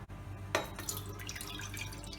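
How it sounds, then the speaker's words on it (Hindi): Water pours and splashes into a metal pot set up for steaming dhokla, a soft, continuous trickle with small drips, heard close and quiet with no voices. "और इसमें 500 ml पानी डाल देंगे।"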